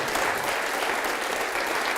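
A church congregation applauds during a worship service, a dense, even roar of many hands clapping that holds steady throughout without any talking over it.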